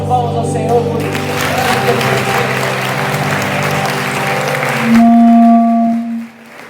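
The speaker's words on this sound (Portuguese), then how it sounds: "Vamos dar uma salva de palmas ao Senhor por isso." Steady applause from a church congregation fills the room over a sustained musical backing, ending with a held low tone as the clapping fades.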